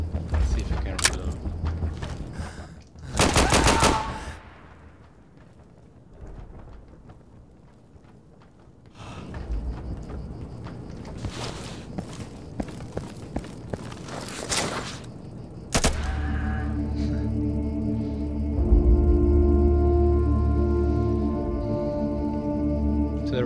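Rapid bursts of gunfire in the Insurgency shooter's ambush mode come as sharp, loud volleys separated by quieter mechanical clicks and handling sounds, with a denser sustained stretch near the end.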